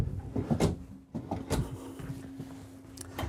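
Cabinet drawers in a 2025 Renegade Classic 45CMR Super C motorhome open and shut with a few close, sharp knocks and sliding thumps, separated by brief pauses under a low steady hum.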